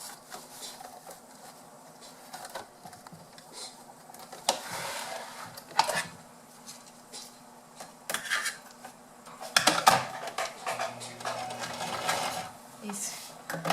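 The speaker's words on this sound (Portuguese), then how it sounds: "Agora a gente vem costurando." A sewing machine stitches fabric for a lunch-bag project, its steady mechanical whir running under quiet background sounds, with a few louder clacks and bursts partway through.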